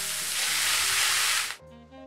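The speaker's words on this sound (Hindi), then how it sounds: "अब बारी है नूडल्स डालने की।" Vegetables and noodles for chowmein sizzle loudly in a hot pan over a high flame, a steady hiss for about a second and a half before it suddenly drops away.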